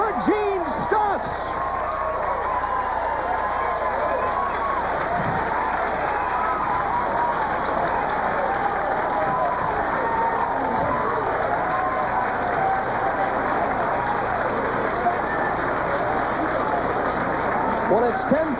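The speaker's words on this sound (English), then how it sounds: "Crowd rooting it on." Loud bowling-alley crowd at a 1992 senior PBA tournament roars and cheers steadily after a perfect 300 game, a dense continuous wall of voices with scattered claps, while a commentator talks over it.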